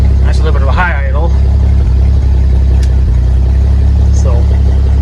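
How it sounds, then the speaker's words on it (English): A lawn tractor engine runs at a slightly high idle, a steady low rumble that stays even throughout while a person talks over it. "That's a little bit of a high idle."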